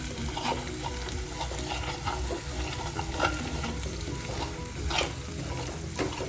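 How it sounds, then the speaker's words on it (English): A spatula scrapes sticky ginger-garlic masala off the bottom of a kadai over high heat, with repeated rough scraping strokes over a constant loud sizzle. "I'm still scraping the bottom of the kadai, because the ginger garlic tends to stick to the bottom"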